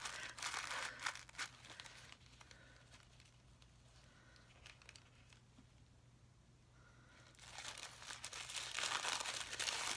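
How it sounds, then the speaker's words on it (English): Paper being slowly peeled off a Valentine's Day craft gives soft, faint crinkling and tearing, louder at the start and end and quieter in between, with no talking. "you just take the paper and you start pulling it away"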